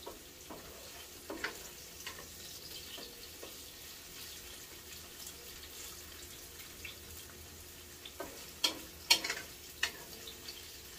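Onion and garlic sautéing in a home kitchen pan, a quiet steady sizzle with scattered stirring scrapes and clinks, growing louder with sharper spatula knocks toward the end, no talk.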